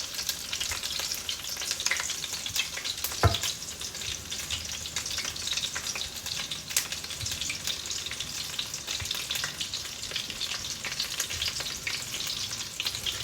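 Sausages fry in a hot pan, giving off a steady, close hiss of sizzling fat with scattered pops and one sharp knock partway through.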